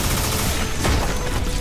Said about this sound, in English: Here's the big one! Proton Cannon!